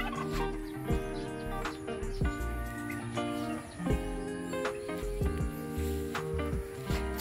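Turkeys on a farm's free-range area, kept alongside chickens and feeding on grass, gobble repeatedly in a steady run of calls. The calls sound close and fairly loud, with no talking over them.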